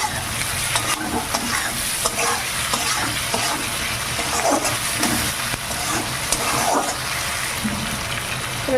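Tomatoes and onions with salt fry in a pan, a steady loud sizzle with intermittent stirring scrapes throughout and no talking.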